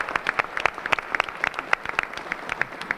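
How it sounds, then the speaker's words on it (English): Scattered clapping from a town hall audience honoring veterans, a modest crowd of individual claps at moderate distance, steady and unaccompanied by talk. "Let's give our vets a big round of applause."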